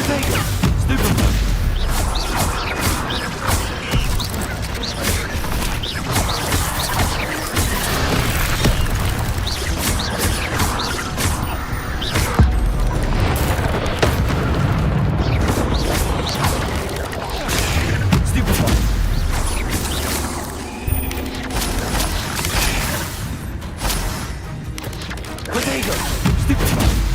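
Spell-casting combat in Hogwarts Legacy: dense, continuous magical blasts, booms, crashes and impacts fire in rapid succession, loud and chaotic throughout, with character voices calling out spells amid the fighting.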